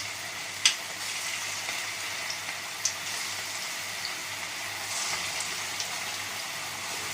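Cabbage Manchurian balls dropped one at a time into hot oil, giving a steady bubbling sizzle with occasional sharp pops and crackles, close and moderately loud, with no talking.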